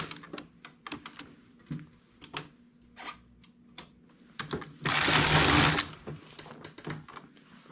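Knitting machine working irregular ribs with two strands of industrial wool: a run of sharp clacking carriage passes and ticks, then a loud, sustained rasping sweep mid-way before the clatter resumes, close and with no voices.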